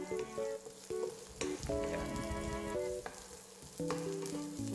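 Chicken breast sizzling in a pan for Filipino adobo, a steady close frying hiss with occasional stirring scrapes, under soft background music and no talking.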